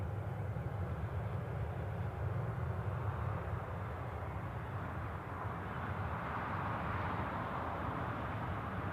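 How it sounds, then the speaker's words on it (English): A Jet2 airliner taxiing at Newcastle International airport, a steady distant low engine rumble and broadband roar that holds evenly for several seconds, faint and heard alone. "Jet2 Tenerife departure is moving as well"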